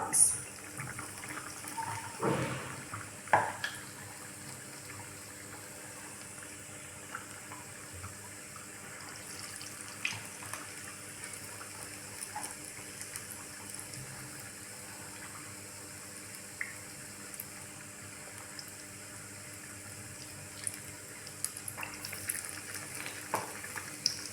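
Battered chili bajji sizzles in hot oil as the dipped peppers are slipped in, a steady crackling hiss with a few louder bursts near the start.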